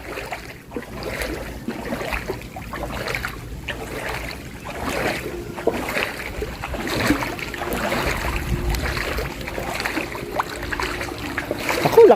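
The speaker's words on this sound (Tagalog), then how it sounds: "Lakas ng tubig." Strong high-tide water in Panginay, Bulacan churning and splashing, a loud continuous rush with repeated surges close by, with a voice over it.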